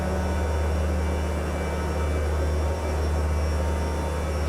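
Steady engine drone of an aircraft in Microsoft Flight Simulator 2024, a constant, unbroken hum with strong low tones, running alone and evenly throughout.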